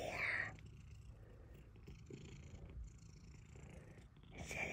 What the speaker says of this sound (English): Look at that cute kitty cat.